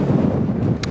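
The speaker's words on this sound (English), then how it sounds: "It's always windy up here." Strong wind on High Down, Isle of Wight, buffets the microphone in a continuous low rumble, close and loud, with no voices.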